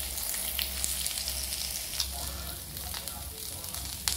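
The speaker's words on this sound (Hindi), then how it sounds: "देखिए ये फ्राई हो रहा है, ये अच्छे से थोड़ा लाल हो जाएगा ना तब इसको निकाल लेंगे।" Food fries in hot oil in a pan until it turns reddish, a dense, even sizzle close up with small pops and crackles throughout.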